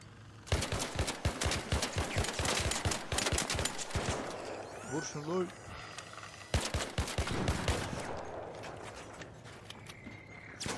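Rapid bursts of automatic gunfire come from the video game ARC Raiders, loud, dense and rhythmic. The shooting pauses briefly midway among other game sounds, then resumes and fades.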